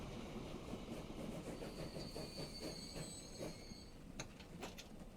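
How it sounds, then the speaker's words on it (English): A log train in the video game Transport Fever 2 rolls steadily along the tracks with a low continuous rumble, faint metallic squeals and a few sharp clanks near the end. "you roll by the decrepit old log train just slowly doing its job."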